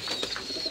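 A dove coos softly nearby in a short, low, rounded call with no talking over it.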